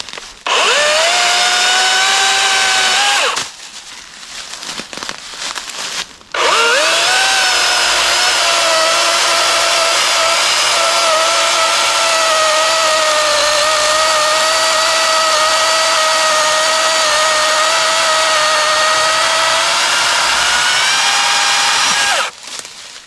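A DeWALT 16-inch battery chainsaw whines steadily as it cuts through small pieces of green pine, with a brief drop and restart early on, then one long continuous cut that ends abruptly.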